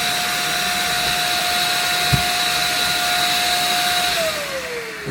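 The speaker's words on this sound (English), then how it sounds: "We've got to get this sanded up" A power sander works over a piece of scrap wood with a steady high whine and constant whooshing hiss, close and even, then the motor tone drops as it winds down near the end; no one talks.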